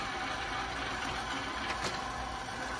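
An engine cylinder boring machine working on a V8 block backs off, giving a steady mechanical whirr and hum with no talking over it.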